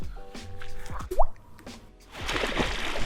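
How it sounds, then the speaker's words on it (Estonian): A small amount of water poured or dripping in a kitchen during a morning routine, with a few wet drips and plops among quiet clatter, followed by a soft rushing noise. "No nii, väike vesi."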